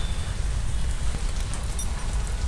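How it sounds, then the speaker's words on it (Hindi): Rain falls steadily outdoors, a dense, even hiss of drops with a low rumble underneath, continuous and fairly loud without any voices. "क्योंकि बारिश हो रही है।"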